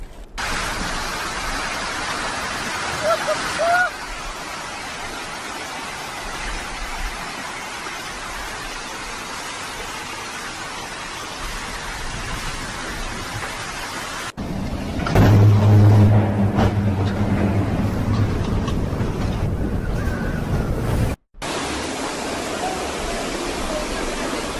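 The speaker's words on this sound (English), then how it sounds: "Istanbul, Turkey was hit by a powerful storm that brought chaos and destruction in beloved city" Powerful storm over Istanbul: a steady broadband roar of heavy rain and wind runs throughout, briefly swelling louder with a deeper rumble near the end before easing back.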